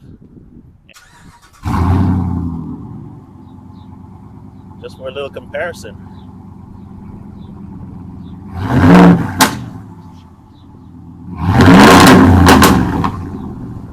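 A car engine cranks and catches, then settles into a loud, rumbling idle. Two sharp revs follow through Carven 5-inch exhaust tips, with a person talking briefly in between.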